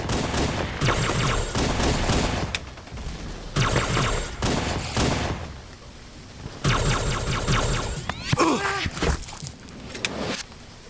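Loud, near gunfire from a Halo fan animation battle scene with ODST soldiers, in long rattling automatic bursts broken by short pauses, plus a sharp impact near the end.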